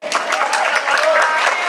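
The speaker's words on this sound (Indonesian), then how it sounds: "Tepuk tangan untuk Pak Menko." Audience applause at an event held to address a subsidized fertilizer shortage, with steady, dense clapping close by and filling the whole short stretch.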